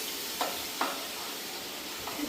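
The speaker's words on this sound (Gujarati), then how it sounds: "શાક વઘારવાનું હાલે" Cherry tomato curry tempered in hot oil with ginger-garlic paste, cumin, mustard seeds and asafoetida, a soft, even hiss of frying with a few light stirring taps.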